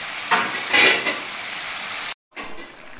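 Fish curry cooks in a pan with tomato, green chili and dried red chili paste, giving a steady close sizzle with a few louder bursts as it is stirred, broken by a brief pause.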